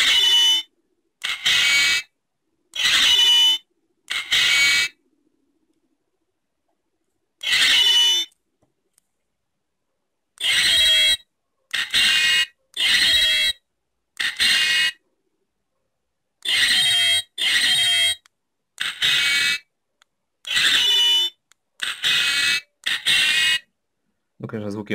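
A cheap Darth Vader Star Wars keychain flashlight toy plays a series of short, harsh electronic sound bursts, about a dozen, with irregular gaps of silence between them, close and distorted.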